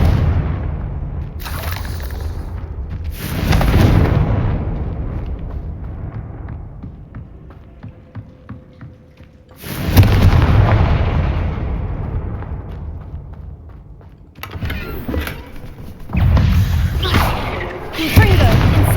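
Confringo fire explosion spell cast in the Hogwarts Legacy video game: several loud, booming fiery blasts in separate bursts, each rolling into a rumbling decay, with quieter stretches of game ambience between them.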